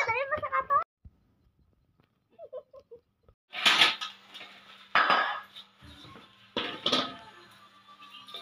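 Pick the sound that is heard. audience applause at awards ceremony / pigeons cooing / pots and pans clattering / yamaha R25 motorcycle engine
pots and pans clattering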